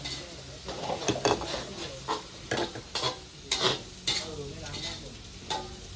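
Food being stirred and stir-fried in a pot, with repeated scraping strokes of the utensil over a steady sizzle, close and fairly loud, and a little faint background voice.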